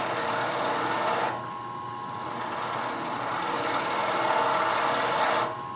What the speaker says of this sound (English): Start hollow it with my shallow fluted gouge.